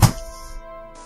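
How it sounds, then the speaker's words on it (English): An Xbox controller dropped onto the floor gives one short, solid thunk at the start, then a soft resonant ring that fades quickly. "I'm dropping Xbox remotes on the floor"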